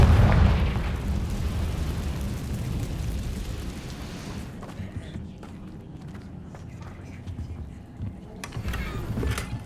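A Confringo explosive spell blast in Hogwarts Legacy, a loud booming burst at the start that rumbles and decays, followed by quieter combat noise and footsteps.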